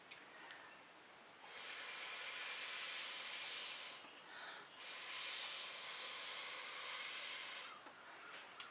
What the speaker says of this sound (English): I think I want to move it into position with a straw